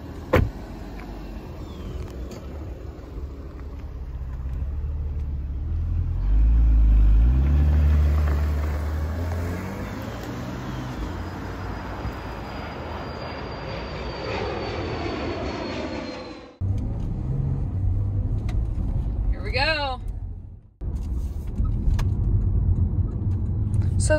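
Engine of a 2016 Porsche Panamera while driving, a steady broadband drone with low rumble and a rising whine, briefly cutting out and resuming, with people talking inside the car.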